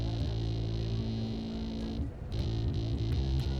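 Electric guitar run through a Jext Telez Canyon Climber 2 effects pedal, giving a woody, sustained overdriven tone; steady chords ring loud and close, with a brief dip midway before the sound swells back in.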